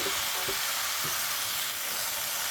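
Gooseweed greens and puthi fish fry in a pan, giving off a dense, continuous sizzle with a few soft stirring knocks near the start and no voices.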